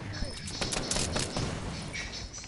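Gunshots in a video game firefight with a shotgun and a headshot, a few sharp close blasts over a steady busy background of game noise.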